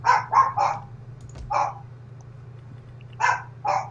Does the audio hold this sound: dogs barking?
yes